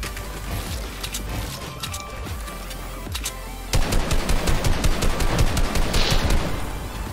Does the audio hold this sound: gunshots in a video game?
yes